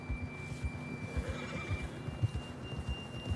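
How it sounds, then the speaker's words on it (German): A horse in the video game Red Dead Redemption 2 neighs faintly over a low rhythmic rumble of hoofbeats and game ambience, with no voices present. "Da ein Pferd, oder?"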